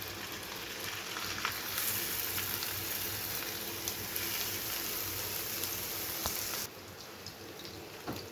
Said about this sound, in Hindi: अब हम इसमें कबाब को फ्राई करेंगे।